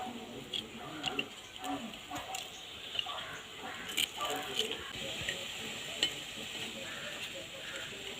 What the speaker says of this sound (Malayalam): നമുക്ക് ഇതിൻ്റെ മുകളിൽ നിന്ന് ഇളക്കിയെടുക്കാം